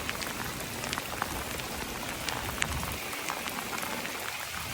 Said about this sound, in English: Y'all see all this rain?